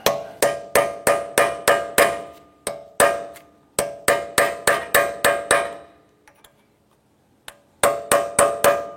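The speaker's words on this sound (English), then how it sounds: "We're going to use our punch and we're going to open up this dimple on the axle nut." A metal punch struck repeatedly with a hammer to open the staked dimple on a car axle nut: sharp, ringing metallic blows in quick rhythmic bursts, close and loud, with a brief pause before the strikes resume.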